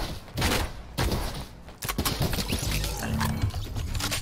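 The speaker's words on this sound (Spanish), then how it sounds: "me está disparando uno" Gunfire in the Fortnite video game, rapid shots and bursts cracking through a busy, dense game mix, loud and close, with no speech over it.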